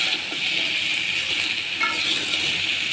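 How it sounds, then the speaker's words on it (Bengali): Vegetables lightly frying in a pan for a Bengali fish curry with ash gourd and potato, a steady, even hiss of sizzling oil, close and fairly loud, with no talking. "সবজিগুলো হালকা ভেজে দিচ্ছি।"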